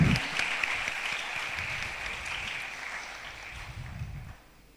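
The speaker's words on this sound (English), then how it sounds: "Let's give her a round of applause." A graduation ceremony audience at a secondary school applauds, a steady wash of clapping that slowly fades before stopping.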